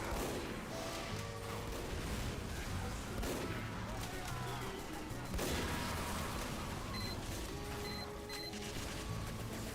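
Gunfire and explosions in the video game Team Fortress 2, with a dense, continuous mix of shots, crashes and mechanical weapon sounds at fairly low level, while players can be heard talking underneath.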